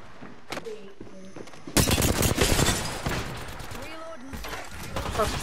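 Rapid automatic gunfire in the battle royale game Apex Legends, loud bursts of shots starting partway through and continuing, with game sound effects and a voice talking earlier.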